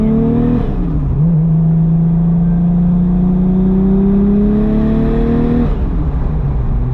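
A stock-turbo Nissan R32 engine drones loudly and steadily, its pitch dipping and then climbing slowly as it revs under load, with a whirring tone throughout.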